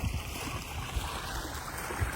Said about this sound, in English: power from that pump pushing that water out of that spa right there, coming over that spillway